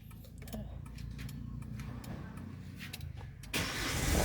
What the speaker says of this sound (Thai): เปิดรถได้ก็สามารถสตาร์ทรถ ได้เลยนะครับ